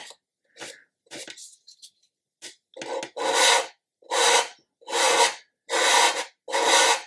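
Sanding a part of a 1/200 Trumpeter Scharnhorst model ship by hand with 400 grit sandpaper: a few light scratches, then five steady back-and-forth rasping strokes, close and distinct.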